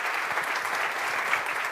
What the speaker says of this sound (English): Round of applause for this panel.